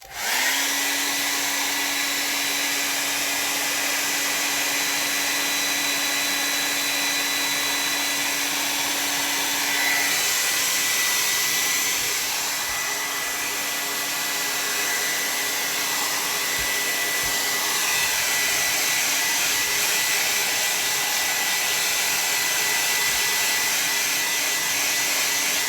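A hair dryer blows steadily over a watercolor painting with a continuous loud whooshing whine that holds throughout.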